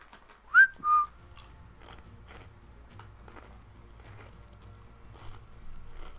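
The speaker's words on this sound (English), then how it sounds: "I'm whistling for him." Two short, bright whistles from a player calling a pet in Ark Survival Evolved, rising then steady, up close over low game ambience with faint footsteps and creaks.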